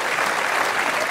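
Brief burst of dense, loud studio audience applause on the German TV show Immer wieder sonntags, a continuous wash of clapping from many hands.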